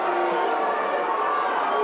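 A rugby crowd at the 2009 WRU final between Morrinsville Sports and Fraser Tech urges on the goal kicker, a steady wash of massed voices and cheering at close, even loudness.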